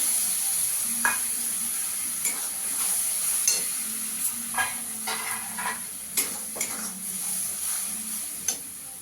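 Ground tomato paste hits hot oil in a pan and sizzles steadily, with repeated spatula stirs and scrapes knocking against the metal at irregular intervals, close up and without speech.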